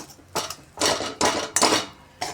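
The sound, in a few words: stirring mung dal kachori stuffing in a kadhai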